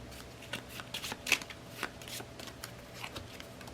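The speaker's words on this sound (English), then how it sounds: "And then I will shuffle the Invocation deck" A deck of game cards is shuffled by hand for the Marvel Champions card game, giving a series of quick riffling bursts close up with no talking.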